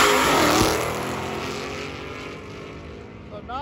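A loud Index-class race car tears past at a drag strip, its engine roaring in a dense broadband wall with a sweeping pitch as it nears and passes, then fading away.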